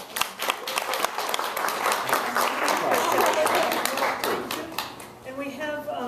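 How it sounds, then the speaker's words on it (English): Audience applause for a teen presenter at a community talk, a dense, sustained round of clapping from a crowd, with voices breaking in as it dies down near the end. "And a round of applause for Amelia."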